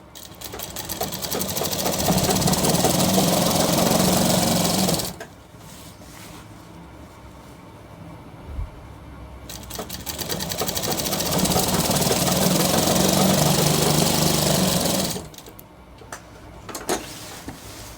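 A sewing machine sews a shirt seam in two long, loud, steady bursts of rapid mechanical chatter. Each burst runs about five seconds and is followed by a quieter pause with faint handling clicks.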